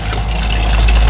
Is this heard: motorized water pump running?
yes